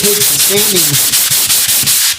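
Rapid back-and-forth scraping of hand sanding with a sanding screen, a rhythmic abrasive rasp repeating about a dozen times, close and loud, with brief talk at the start.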